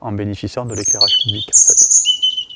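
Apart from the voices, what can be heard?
European robin singing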